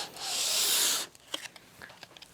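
Sandpaper wrapped on a sanding block rubs across a cross country ski base, one short, soft scraping stroke up close, followed by a few faint scuffs and taps.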